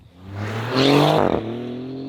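A 2025 Maserati GranTurismo Trofeo driving on the road, its engine note climbing loud and close as it accelerates, then easing back to a steady drone.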